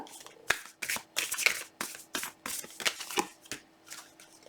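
Oracle cards riffled and shuffled for a tarot reading, a quick run of crisp papery bursts and flicks at a steady rhythm, close and fairly loud, with no talking over them.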